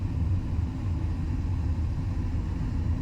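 Low, steady engine rumble of a vehicle idling or creeping in town traffic near a church, a constant muffled drone without distinct events.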